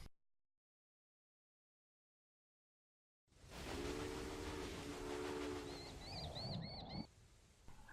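A train in the game Railway Empire starts up after a few seconds of silence, a steady rumbling roll joined by a brief steam whistle, then cuts off abruptly near the end.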